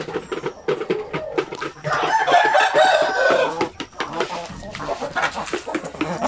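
Basilan chickens on a farm, a rooster crowing loudly alongside busy hen clucking and cackling, with overlapping bird calls filling the whole stretch.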